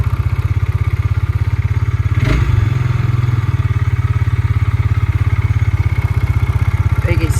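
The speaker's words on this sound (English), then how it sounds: "let you hear it. I mean, it is loud. So let's take it for a scoot here. Nice idle, nice start." A Tractor Supply Bighorn Explorer engine idles loudly and steadily just after starting, its rapid even putter continuous throughout, with a brief thump partway through.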